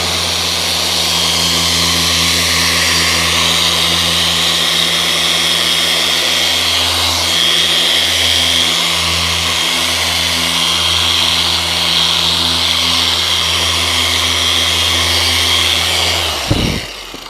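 Power sanding disc working on a Plexiglas window, a loud, steady motor whine with a sustained hum that runs continuously, then winds down abruptly at the end.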